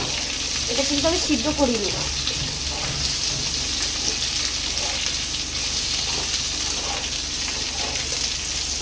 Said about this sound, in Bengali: আমগুলো দিয়ে হালকা হালকা করে একটু ভাজতে হবে।